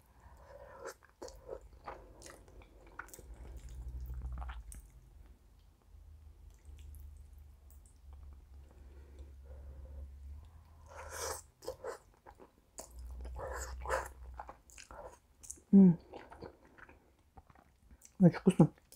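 Someone eats hot jajangmyeon black bean noodles topped with melted cheese, with close wet slurps, bites and chewing that alternate with soft speech.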